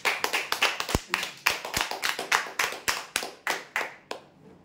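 A small crowd at a weekly prize draw claps for the winners, the individual hand claps sharp, quick and distinct, close by and steady before tapering off at the end.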